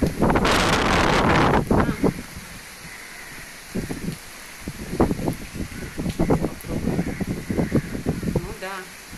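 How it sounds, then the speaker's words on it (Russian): Strong wind during a rainstorm in Tamil Nadu, India, with puddles and water everywhere: heavy gusty buffeting roars at the start and continues as a rushing background while someone talks intermittently over it. "Ой, какой ветер."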